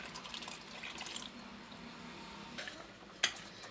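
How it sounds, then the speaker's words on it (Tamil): Soaked tamarind water is poured into a cooking mutton and lentil dish, a faint trickling and dripping of liquid with a sharp little clink of a vessel near the end. "கொஞ்சம் புளி ஊற்றுறேன்."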